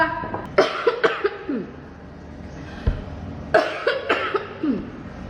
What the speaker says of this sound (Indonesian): Jadi batuk ya